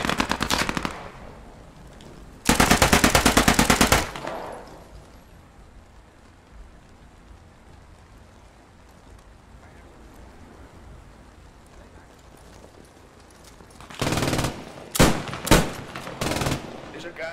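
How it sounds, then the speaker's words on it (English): Bursts of rapid automatic gunfire from the video game Post Scriptum, with shooters firing out of house windows: a long loud burst early on, then quieter background, then several sharp bursts near the end. "they're just shooting out the windows right now"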